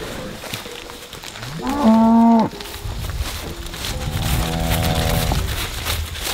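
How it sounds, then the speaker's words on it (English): Cattle on a farm moo twice, a short loud call followed by a longer, lower drawn-out moo, over a background of buzzing flies and outdoor noise. "Man, that's a good looking cow."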